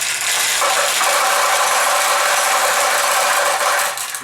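A stream of small steel balls rattles and clatters through a Nishijin pachinko machine, a dense, loud, continuous metallic clicking that runs for several seconds before easing off at the end.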